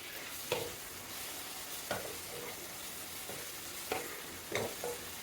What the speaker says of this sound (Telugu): ఉల్లిపాయ ఎర్రగా వేయగాక టమాటాలు వేస్తానండి